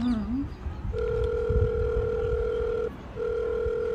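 Telephone ringback tone on an outgoing call, two long steady tones separated by a short pause, heard over faint background noise after a quick voice sound at the start.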